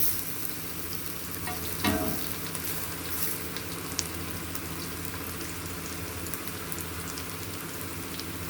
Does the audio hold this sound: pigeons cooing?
no